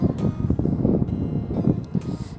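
Strong wind sweeping across Pangong Lake, a high-altitude lake ringed by snow-covered mountains, buffets the microphone in a continuous loud, low rumble with gusty surges and no voices.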